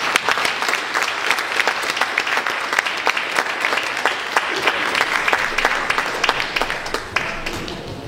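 Sustained audience applause for a cello-and-piano pair of musicians, with many hands clapping steadily and crisp individual claps standing out throughout, unbroken by speech.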